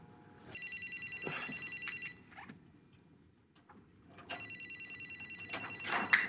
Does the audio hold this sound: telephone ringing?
yes